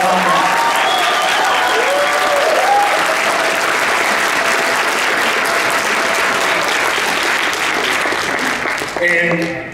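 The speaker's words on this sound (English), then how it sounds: "give a round of applause again" A large convention crowd at a Mortal Kombat cast panel at C2E2 2019 breaks into loud, sustained applause that lasts nearly the whole stretch before fading near the end.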